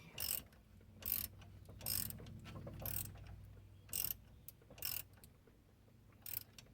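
Parts being tightened up as hard as possible, producing a series of short, close ratcheting clicks in spaced bursts about a second apart, fairly quiet with no talk.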